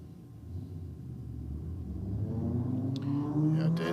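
A turbocharged Barra-engined car and a turbocharged LS Commodore Ute run side by side in a roll race, their engine rumble building steadily louder as they accelerate, with a higher whine rising near the end.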